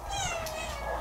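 A cat gives one drawn-out meow close by, outdoors on a rainy, icy-cold day near a hut. It is clear and fills the whole moment.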